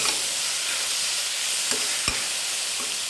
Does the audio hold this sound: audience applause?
no